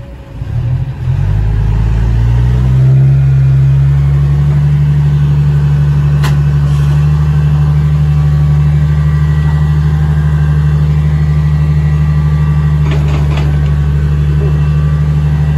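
A Hino 344 truck engine starts with a low, loud rumble, then settles into a steady, heavy diesel drone with deep harmonic tones, close up and alone.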